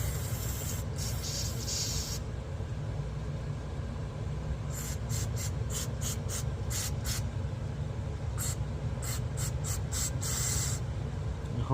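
Short, sharp hissing bursts of cleaner sprayed onto an Onan 4000 generator carburetor, one long spray followed by a quick series of rapid pulses, close and loud over a steady low engine-like hum.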